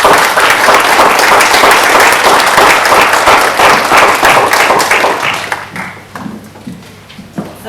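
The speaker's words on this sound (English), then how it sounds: "round of applause" At a graduation ceremony in London, an audience applauds loudly as a woman is called up to speak, a thick wash of clapping that fades out over the last couple of seconds.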